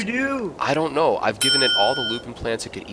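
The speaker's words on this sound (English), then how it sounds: "So that's the sound of an email." A short sustained electronic chime rings out as the email notification in the SimPark video game, sounding over continuous talking.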